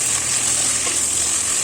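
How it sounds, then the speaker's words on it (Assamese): Chicken frying and being stirred in a pan over a medium flame, a loud, continuous close-up hiss of sizzling oil with no talk. "লৰাই চৰাই এনেকৈ মিডিয়াম ফ্লেমত এনেকৈ ভাজি আছোঁ।"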